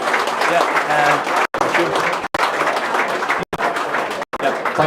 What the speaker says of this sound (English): please give Peter, the whole rest of the team, a huge round of applause